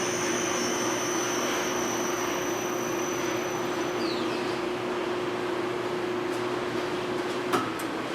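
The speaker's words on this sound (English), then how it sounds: "You turn the unit off, you hit the stop button, the pump will slowly slow down." A pump motor run by a variable frequency drive winds down after being stopped, its steady electrical whine and hum gradually falling in pitch, with a faint click near the end and no voices.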